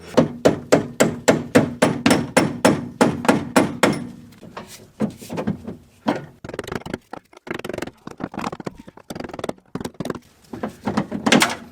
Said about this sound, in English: Nothing a hammer can't fix.